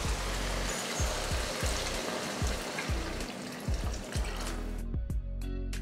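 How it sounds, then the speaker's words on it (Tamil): Water pours into a pot of sambar spiced with home-ground sambar powder, a steady splashing gush over faint sizzling with small clunks, ending in a few sharp taps. "அடுத்து தண்ணி சேர்த்துருவோம்."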